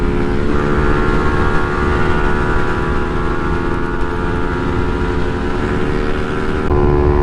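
A KTM Duke 200 motorcycle accelerating hard in a drag race, its engine a loud, sustained drone that holds steady throughout with no talking over it.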